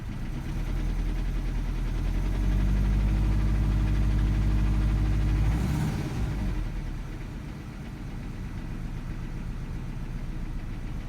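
Subaru EJ257 engine idling on a cold startup with a defective timing belt tensioner, a steady loud mechanical clatter and rumble that eases and quiets slightly partway through, with no voices.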